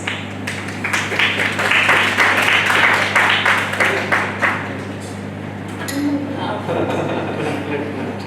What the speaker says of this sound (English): Please let us have another round of applause for our plenary speaker and our chairman